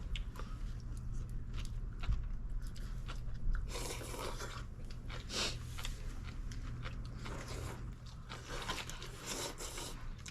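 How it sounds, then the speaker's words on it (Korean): Someone chews green onion kimchi close up, with soft wet crunches and bites repeating irregularly over a quiet low background hum. "아 이거 다시 파 씹는 소리가 제대로네."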